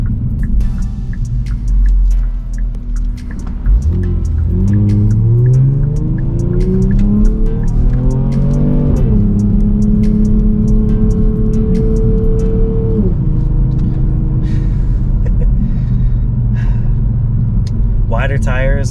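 A Kia Stinger in sport mode accelerates hard onto a freeway, its engine note climbing through a rising rev sweep, dropping at a shift, then holding a loud steady drone with road rumble.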